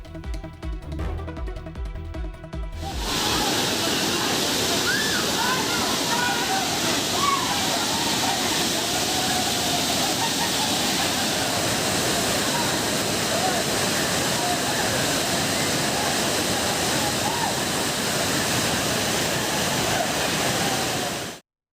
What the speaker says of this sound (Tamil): ஒகேனக்கல் அருவியில் நீர்வரத்து அதிகரித்துள்ளது